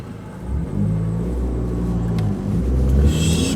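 A car engine rumbles and rises in pitch as the vehicle accelerates across an intersection, heard steadily from inside the cabin with a brief higher whir near the end.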